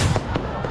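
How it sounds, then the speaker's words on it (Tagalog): Fireworks at a display in Oroqueta, Misamis Occidental, pop in a quick burst of loud sharp cracks over a dense, noisy outdoor background. "Sa gitna naman ng fireworks display sa Oroqueta, Misamis Occidental, biglang lumipad ang mga paputok sa mga manunood"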